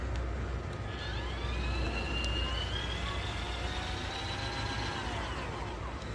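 A drill spins a board for spin art, giving a steady, loud whirring drone that rises and falls slightly in pitch throughout, with no talking.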